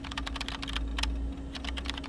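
Rapid keyboard typing in the animated series Code Lyoko, close and clear, with bursts of keystrokes, a short pause midway, then more clacking over a steady low hum.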